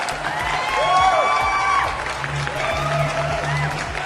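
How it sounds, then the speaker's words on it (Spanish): A church congregation gives warm applause, with cheering and whoops rising over the clapping of a crowd, fairly steady over a few seconds with voices mixed in. "te recibimos con este cálido aplauso"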